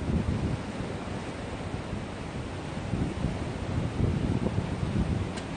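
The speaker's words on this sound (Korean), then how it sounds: "아 바람이 불어갖고" Strong wind blows steadily across a seaside holiday-house beach during a stormy, typhoon-like day, a dense roaring rush with gusty swells and buffeting against the microphone, loud and continuous with no talk.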